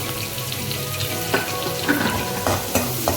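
Onion and garlic frying with salt for an eggplant curry make a close, steady sizzle, with several sharp stirring scrapes and taps against the pan over a few seconds.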